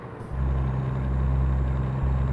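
Freightliner Columbia truck engine in American Truck Simulator, a deep steady diesel rumble that swells up after a brief quieter start and holds loud and constant, with no talking.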